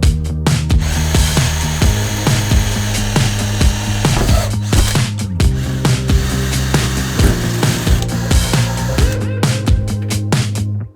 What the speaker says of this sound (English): behind that rubber are a zillion rivets holding the window to the body. So first I have to drill them out.